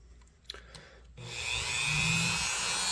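A Scotch-Brite type abrasive wheel spins up and grinds against an old jack knife, starting after a second of quiet clicks and building into a steady, close whirring rasp.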